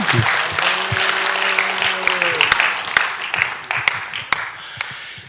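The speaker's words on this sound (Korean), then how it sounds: "우리 기도 응답해 주신 하나님께 박수로 영광을." A church congregation at a spiritual revival meeting claps in praise, a burst of applause under a sustained sung or spoken voice at first, then thinning to scattered, distinct claps.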